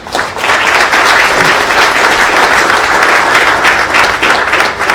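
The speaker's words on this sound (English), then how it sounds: "I think that deserves a round of applause." A crowd at a redevelopment announcement in Springfield breaks into loud, close applause, dense and even throughout, with no voices heard over the clapping.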